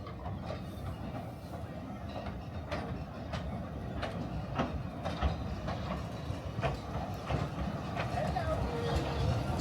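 A Talyllyn Railway narrow-gauge train rolls through Wales with a continuous rumble and irregular wheel clicks from inside the carriage, as voices chat quietly in the background.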